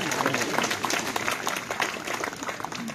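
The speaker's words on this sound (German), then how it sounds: "Großen Applaus, bitte." Audience applause at a cosplay show contest: dense, steady clapping from a crowd throughout, fairly loud and close, with a voice faintly audible beneath it.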